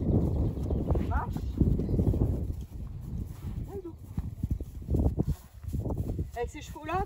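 A slim, fine-boned horse being led in hand at a walk, its hooves clip-clopping in a steady rhythm close by, with a person talking over the steps throughout.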